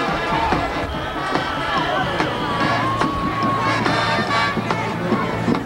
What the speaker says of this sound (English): On the great crowd here today for Stoughton.